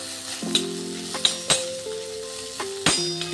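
Mashed potatoes sauté in ghee, sizzling under a spoon that scrapes and taps the pan in a few distinct strokes, close and fairly loud, with no voices.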